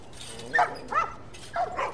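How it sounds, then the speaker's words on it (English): Several dogs in The Last of Us bark and yip in short bursts, one volley after another across two seconds, fairly close and clear over a low background. "Doggies!"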